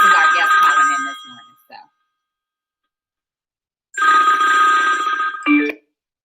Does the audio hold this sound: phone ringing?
yes